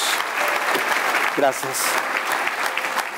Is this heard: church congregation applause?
yes